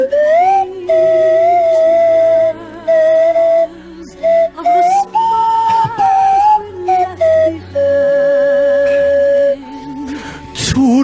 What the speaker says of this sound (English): Every time you go for the slide whistle, you're not sure which way it's gonna.